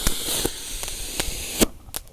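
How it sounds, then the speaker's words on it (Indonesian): A lit jumbo firework fountain sprays outdoors at night with a steady, loud hiss, broken by sharp crackling pops at irregular intervals before the spray thins out near the end. "ini air mancur yang ukuran jumbo ya. Kita nyalakan."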